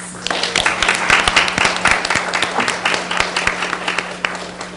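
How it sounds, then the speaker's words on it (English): Audience applause at a spouses' essay contest forum, dense sustained clapping from a crowd filling the whole stretch at steady loudness. "give a big round of applause for our chairperson, Simone Meeks"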